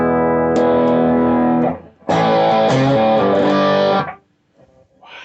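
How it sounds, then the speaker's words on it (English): Electric guitar played loud through a prime distortion effect, two sustained distorted chord passages separated by a short gap, then a faint trailing tail. "Prime distortion."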